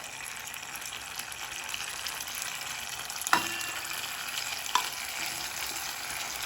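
Chutney sizzles and spits in a hot pan for vegetable pockets made without refined flour, giving a steady close frying hiss with two brief sharp clinks along the way.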